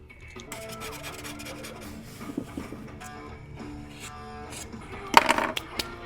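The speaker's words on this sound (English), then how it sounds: "Get this wax off." Wax being rubbed off an old, scuffed wooden bookshelf: a rasping, scratchy rub repeats steadily at close range, ending in a sharper burst of scrubbing.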